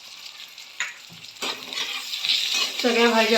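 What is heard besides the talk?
onion, tomato, carrot, capsicum, peas sautéing in pan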